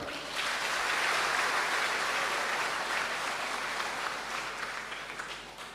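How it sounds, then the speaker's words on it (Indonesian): A church congregation at a Christmas Eve service applauds together in a dense, sustained wash of clapping that swells and then slowly fades. "tepuk tangan untuk Tuhan"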